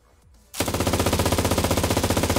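A mounted machine gun fires in the video game Cuisine Royale, a sudden loud burst of rapid, evenly spaced shots that keeps hammering after a quiet start, no talk.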